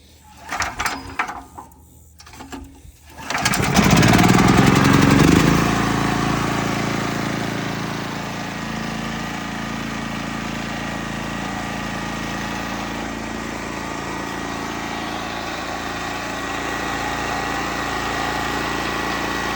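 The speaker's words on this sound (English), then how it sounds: "A standard household portable generator running on a 14-gallon tank." Standard portable household generator fed from a 14-gallon bulk fuel tank: a few rattling pull-cord tugs, then the engine catches with a loud surge and settles into a steady, even running drone.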